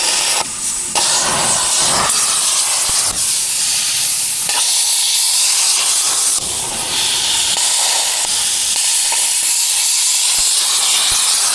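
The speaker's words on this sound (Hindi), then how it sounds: "तो इसको एफिशिएंटली काटने के लिए प्लाज्मा से काट रहे हैं" A plasma cutter slicing through a seized, oil-soaked nut with a small gun gives a loud, continuous close hiss with bursts and breaks as the arc stops and restarts, no talk over it.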